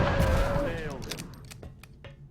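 A sniper rifle firing in the video game XCOM gives a few sharp, separate cracks over a steady electronic game backdrop. A soft sweeping tone fades out early in the clip.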